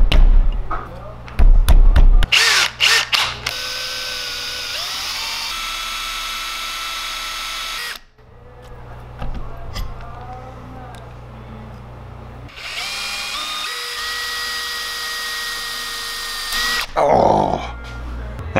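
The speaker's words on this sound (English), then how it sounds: "Now I gotta drill holes down into each one of these" An electric drill whines loudly in long sustained runs while drilling holes into brass, stopping and restarting, with a few clattering knocks before it starts and a thump near the end.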